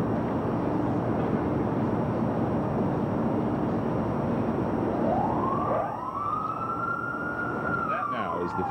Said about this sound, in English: The 15-second siren.